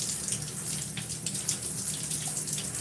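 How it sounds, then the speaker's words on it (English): Running water rinses hair in a steady, close hiss of flow and splashing that holds level from start to end. "we're gonna just start to rinse this"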